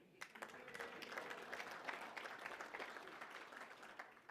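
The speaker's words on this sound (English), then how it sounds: "I think Jay's going to be applauding again" A table of audience members at a mayoral nominee's talk applauding, a faint, distant patter of clapping that holds steady for a few seconds, with no voices.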